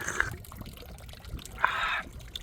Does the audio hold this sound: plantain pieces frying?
no